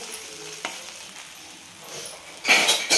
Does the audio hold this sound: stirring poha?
yes